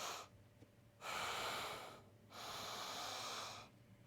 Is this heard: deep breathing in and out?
yes